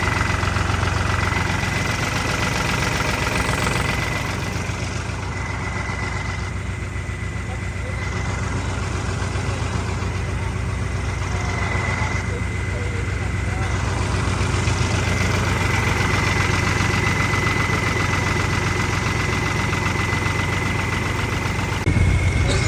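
A large Punjab tractor engine idles steadily with a deep, rumbling drone and a constant hum, loud and close throughout, with people talking faintly over it.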